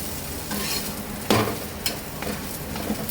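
A pumpkin paratha frying in oil in a pan sizzles steadily, with a loud scrape or stir partway through and a few lighter clinks of a utensil.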